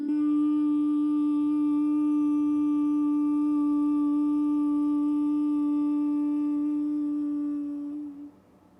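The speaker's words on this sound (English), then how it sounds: "you're going to hum, simultaneously breathing out through the nose" Closed-lip nasal humming, one steady high-pitched tone held for about eight seconds while breathing out through the nose, rich in overtones and then fading out, performed alone in a quiet room during a guided meditation.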